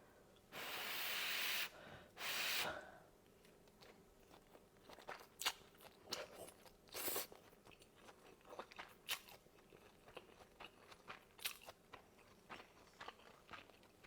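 Crunchy kathiew cha is bitten and chewed close to the mic in a quiet room. Two louder crunching bites come first, then softer, scattered chewing crackles continue.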